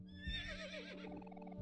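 A donkey character in the video game Omori gives one long, warbling, whinny-like bray that wavers and falls, set against a steady game tone.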